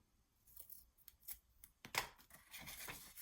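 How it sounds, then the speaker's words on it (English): Scissors cut a slab of tape for a Halloween junk journal mini album, giving several quick close snips and crinkly tape sounds that grow denser toward the end, quiet and with no talking. "does it drive you crazy when I cut the tape like that?"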